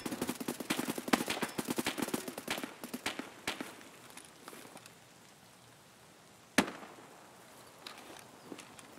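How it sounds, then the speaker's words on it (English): Gunfire in the game Escape From Tarkov, a rapid burst of distant shots followed by sparse scattered cracks and one louder close shot. "Where was all that shooting just coming from?"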